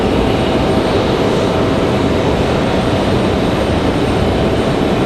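Copa Airlines Boeing 737-800, loaded heavy and departing Raleigh-Durham International for Panama, gives a loud, continuous engine roar that stays level and unbroken, with no one speaking.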